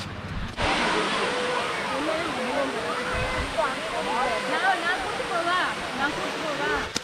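Masila waterfall in the Kolli Hills pours in a steady, broad rush of water, loud and continuous from start to end, with voices talking over it.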